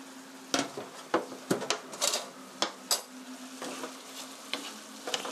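Sliced onions stir-fried in a pan for jjajang black bean sauce, with a soft sizzle under repeated clinks and scrapes of a utensil against the pan.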